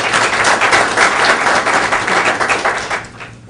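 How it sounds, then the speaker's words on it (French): Loud, sustained applause from an audience at a French-language official launch event for an Ivorian business and investment gathering in the USA, steady clapping throughout that thins out at the very end. "représenté par le président Léon Sadiko, que j'aimerais qu'on applaudisse très fort"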